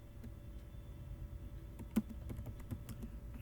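Someone types a command on a computer keyboard, producing soft, quiet, irregular key clicks with one sharper tap near the middle, over a low background hum and no talk.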